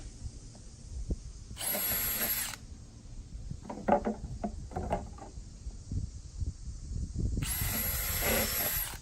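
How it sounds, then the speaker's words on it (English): A power drill bores pilot holes into plastic base pieces during assembly. Two loud, high-pitched whirring bursts, about a second and nearly two seconds long, are separated by quieter knocks and handling noises. "Pilot 4 holes on each of the base pieces."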